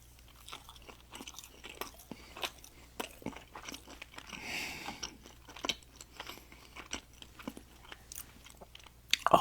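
Crunchy bites and chewing on a homemade sugar-free protein chocolate chip cookie made with peanut butter, close and quiet, with irregular crisp crunches and soft mouth sounds spaced through the stretch.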